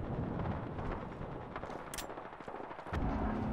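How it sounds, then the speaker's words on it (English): Apex Legends gunfire during an end-circle fight at a competitive ALGS match, a dense stretch of muffled rapid shots and bursts layered over game noise, moderately loud throughout. "Oh, they're shooting over. Oh, they're right there shooting."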